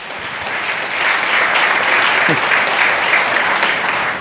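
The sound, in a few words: audience round of applause for presenter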